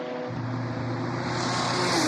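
Mazda RX-7 race car with a rotary 13B engine at a Yokohama World Time Attack Challenge event, a loud steady engine drone that rises slightly in pitch as it pulls past.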